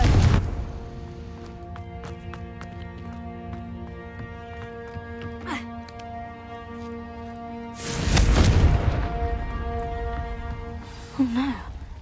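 A Confringo blasting spell going off in Hogwarts Legacy, heard as a loud booming burst that rolls for a couple of seconds over sustained game music, following a short sharp hit near the start.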